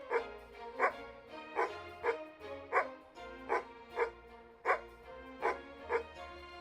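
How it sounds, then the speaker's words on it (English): A tomcat character in the game Near-Mage gives a regular series of about a dozen short, dog-like barking yelps, evenly spaced and fairly faint, with no other sound between them. "It's a tomcat, but almost sounds like a dog when it vocalizes."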